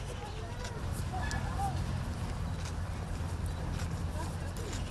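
Hooves of retired ceremonial and competition horses clip-clop in a steady walking rhythm at close range, mixed with low rumbling background noise and people talking.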